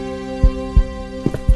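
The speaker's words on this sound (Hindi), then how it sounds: "कमरे में सन्नाटा था, इतना सन्नाटा कि दोनों अपने दिल की धड़कन साफ सुन सकते थे।" Heartbeat sound effect from a Hindi audio drama: two slow double-thump pairs of low, soft beats, close and alone over a steady droning hum.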